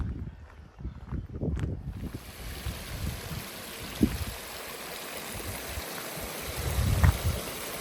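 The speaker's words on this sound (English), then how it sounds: "This is the water stream coming from here." Water stream flowing through a botanic garden in Wales, a steady broadband rush with low gurgling under light wind buffeting on the microphone, fairly close and continuous.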